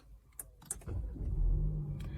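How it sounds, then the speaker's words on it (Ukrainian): An Audi A4 engine cranks and catches after a few clicks when started by push button, then settles into a steady low idle that grows louder and rumbles on. "Бачимо, що двигун заводиться"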